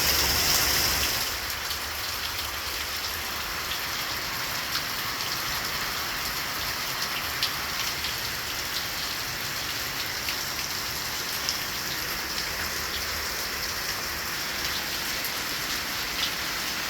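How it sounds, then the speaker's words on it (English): Steady rain patters on the surfaces around an RV travel trailer, a dense continuous hiss of drops that holds evenly throughout with no voices. "As you see, it is still raining."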